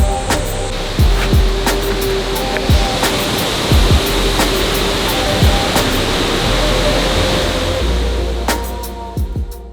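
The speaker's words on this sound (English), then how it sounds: "Monkeys in a massive waterfall." A massive waterfall in Japan roars in a close, loud, unbroken rush of falling water, with a few faint knocks and taps scattered over the steady wash.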